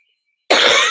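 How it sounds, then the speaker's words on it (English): A single sharp cough bursts out abruptly after near silence, close and loud, from a person chatting during a live crochet session. "excuse me for coughing."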